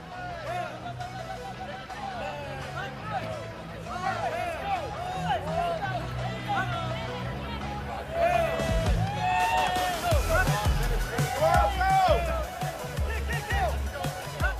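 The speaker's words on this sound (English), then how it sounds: "You can hear them shouting chants of dig, dig, dig, pedal, pedal, pedal, go faster" A crowd shouts rhythmic chants and cheers on teams pedaling in a military fitness competition marking the US Army's 250th birthday, a steady swell of many voices that grows louder in the second half under an announcer's talk.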